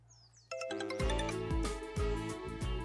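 Mobile phone ringing with an incoming call, a chiming melodic ringtone that starts abruptly and repeats in a steady looping pattern of bright tones, clear and close with no talk over it.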